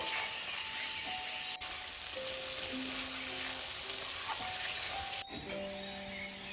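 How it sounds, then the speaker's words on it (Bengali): Spice masala of chilli powder, cumin powder, salt and whole green chillies fries in a pan for a fish curry, a steady close hissing sizzle with occasional stirring scrapes and a couple of sharp utensil knocks. "আমাদের মশলাটা খুব ভালো করে কষাতে হবে।"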